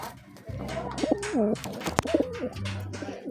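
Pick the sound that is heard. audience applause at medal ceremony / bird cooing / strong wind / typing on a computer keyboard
bird cooing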